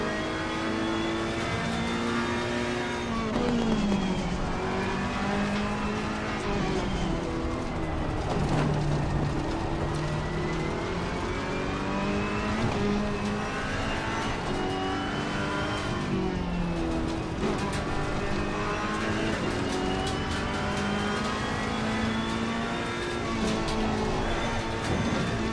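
Race car engine in Assetto Corsa Competizione revving hard and dropping through the gears, with pitch climbing and falling repeatedly in a loud, continuous drone.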